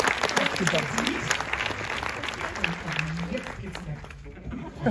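Scattered applause from an audience rolls on beneath a voice, continuing throughout at a moderate level.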